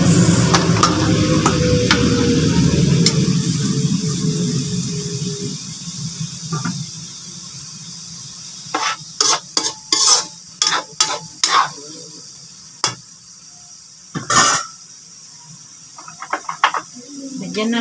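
Carrots and Baguio beans stir-fried in a pan for lumpiang toge: a steady loud sizzle that gradually dies away, followed by a run of sharp spatula scrapes and clanks against the pan.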